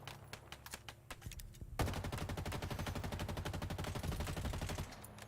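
Automatic gunfire in the shooter Halo Infinite on Legendary difficulty: sparse scattered shots first, then a sudden sustained rapid burst of evenly spaced rounds that continues steadily to the end, no voices.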